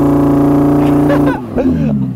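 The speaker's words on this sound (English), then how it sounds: "If you engage launch control, then you can sort of rev it." Audi R8 V10 rear-wheel drive revved on launch control, a loud, steady high-revving engine drone that holds, then drops away in a sharp burst of popping and crackling near the end.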